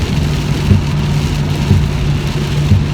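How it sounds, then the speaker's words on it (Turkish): Heavy rain pounding a car while driving, a dense steady hiss over low road and engine rumble, loud and continuous with no voices. "bayağı da yağmur hızlandı"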